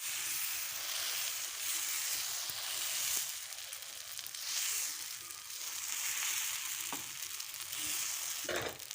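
Green gram pesarattu batter cooking on a hot pan, a soft continuous sizzle with light crackles and gentle swells, close but quiet, with no talking.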